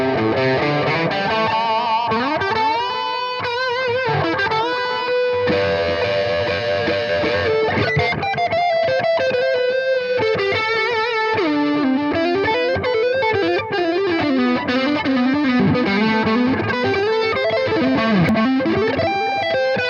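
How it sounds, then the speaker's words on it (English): Electric guitar played through a Fender Duel Pugilist distortion pedal in blend mode, one channel at three-quarter gain and the other just past half, giving thick, saturated sustained notes and sliding bends that carry loud and alone. "I have the pedal on the blend mode bypass, and one channel 3/4 distortion, the other one just past half"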